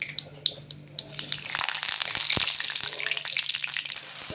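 Curry leaves hit hot oil in a kadhai for a village-style chicken curry, opening with a few sharp crackles before a dense, steady sizzle and spitting take over close by.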